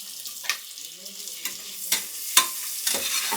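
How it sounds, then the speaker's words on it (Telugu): Tomatoes being stirred in a hot pan for a village-style goat head curry, with soft frying sizzle broken by several distinct spoon scrapes and knocks spaced about half a second apart, close up and fairly quiet. "ఇప్పుడు టమాటో వేసుకుంటున్నా."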